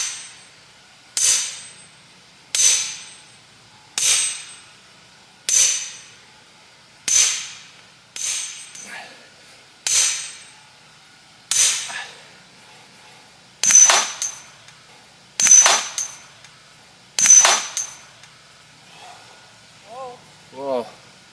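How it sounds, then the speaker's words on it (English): A sledgehammer pounds the drive cap on a pipe in a shallow hand-dug well, ringing out about a dozen loud metallic clangs at a steady, nearly even pace, with a brief voice near the end. "Ditching the postal driver. Going with the sledge."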